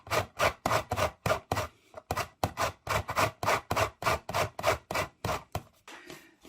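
An orange is scraped against a zester or grater in quick, regular rasping strokes, about a dozen rhythmic scrubs up close, while preparing Christmas fruit cake.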